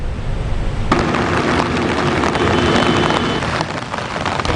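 Heavy rain pours down hard and steady during flooding in Ahaliyagoda, a loud continuous wash that swells suddenly about a second in, with scattered sharper drops and splashes throughout.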